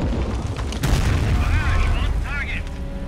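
Air-strike explosions in the Company of Heroes video game set off heavy rumbling booms and bursts, with a player talking over the blasts.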